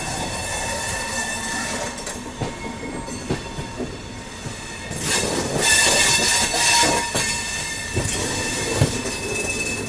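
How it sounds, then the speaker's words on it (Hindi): A Baba Baidyanath Dham superfast express leaves Madhupur station. The loud, steady rumble of railway cars and wheel clatter grows heavier partway through, with squealing wheels and rhythmic clicks up close. "लेकिन अपनी ट्रेन निकल रही है 3:30 पे"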